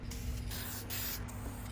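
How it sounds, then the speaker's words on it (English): A spray can lays down a polyurethane gloss clear coat on a custom toy warrior figure, giving off a steady close hiss in short bursts with a faint hum underneath. "I've been spraying them with a polyurethane gloss clear coat"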